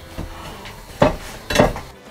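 Dishes clatter during washing-up at home, with a few sharp clinks and knocks of crockery spaced across a short moment. No one speaks.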